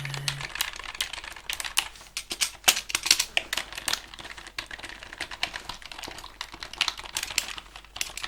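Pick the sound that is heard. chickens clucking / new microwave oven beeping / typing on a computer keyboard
typing on a computer keyboard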